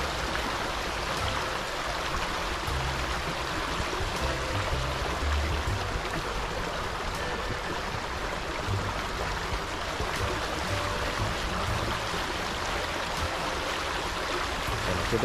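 Continuous rushing of river water, a steady broad wash of flowing current that stays even from start to finish.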